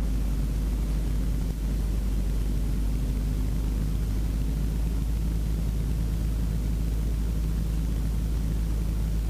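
Steady, even cabin drone of a small airplane on landing approach with throttle reduced and full flaps set, a constant low rumble and broadband hiss throughout with no talk.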